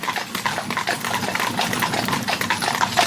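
A whip-shy horse being driven, hooves clip-clopping in a steady rapid rhythm on hard ground, close and continuous throughout with no talking.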